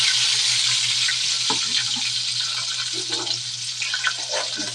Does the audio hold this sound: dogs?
no